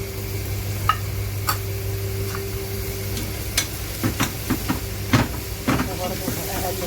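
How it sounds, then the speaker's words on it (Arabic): A spoon stirs grated carrot into chicken mandi in a single pot, giving scattered scraping taps against the pot over a constant low hiss and gentle sizzle. "وبرده اقلب كده وانزلها واخلطها بالمكونات كلها عشان تدبل"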